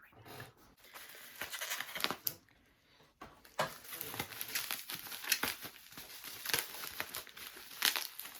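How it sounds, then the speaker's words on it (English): Makeup packaging being unwrapped by hand, dense crinkling and tearing of plastic and paper wrap in irregular bursts, close and fairly loud, with a brief lull partway through. "I don't like having to unwrap all this stuff."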